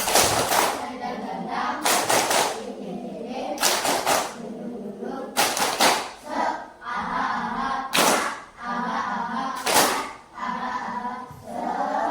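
An elementary school class performs a rhythmic spirited clapping chant in bursts of rapid claps, several loud groups spaced a couple of seconds apart, with voices chanting and talking between them.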